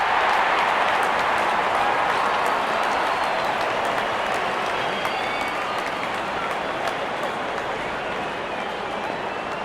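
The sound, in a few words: cricket crowd cheering as openers walk in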